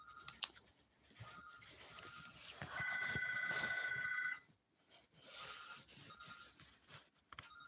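A telephone rings indoors in a repeated electronic ring pattern, with bursts separated by short gaps, fairly clear and without talk.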